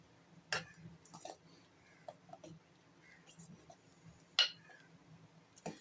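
Dal stirred into boiling spice paste for a bitter gourd pitla, with a metal spoon giving sparse, faint clinks and taps against the pot over a low simmering hiss.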